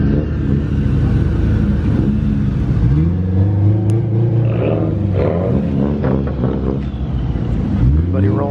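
Cars, among them a Toyota Supra, rev their engines loudly as they roll into a car meet, with rising and falling engine sweeps close by and voices in the background.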